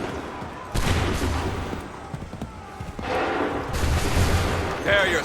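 A volley of musket fire rings out on command in Assassin's Creed 3, two broad bursts of massed gunshots crackling over a continuous battlefield din, with no talk heard.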